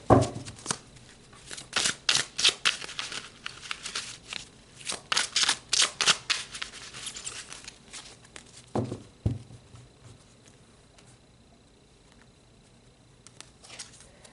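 Tarot cards are shuffled close by in a quick rhythmic series of papery riffles and pats, then taper off into soft, sparse handling noises.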